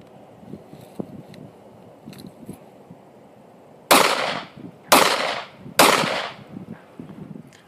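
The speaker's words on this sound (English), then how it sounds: "where you fire two rounds to the body and one round to the head" Three sharp, loud gunshots in a failure drill, two fired quickly to the body and then one to the head, each crack standing out clearly over a quiet range.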